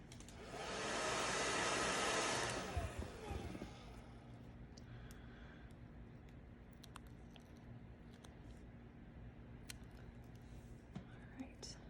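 Hair dryer blowing on a Color Street nail polish strip on a fingernail, a steady breathy roar for about two seconds that then cuts off, leaving quiet room noise and faint handling.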